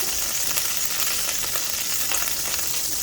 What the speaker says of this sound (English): Now that I've got all those nice and seared, that will seal the juices into those